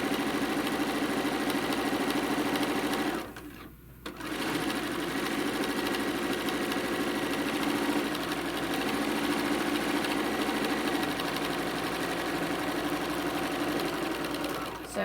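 A sewing machine stitches through a quilted tote bag panel with bulky interfaced corners, running steadily and loudly throughout with a brief pause near four seconds, while a person talks over it.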